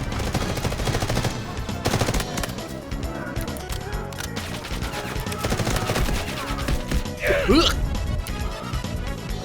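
Rapid machine gun bursts from a video game firefight rattle almost continuously at close range, with intermittent chatter mixed in underneath.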